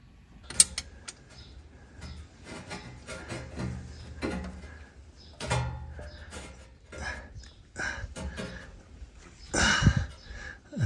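A socket wrench tightens the transaxle filler plug on a Porsche 968 or 944 gearbox, giving close irregular creaks, ratcheting clicks and metallic knocks in uneven bursts with muffled shuffling between them.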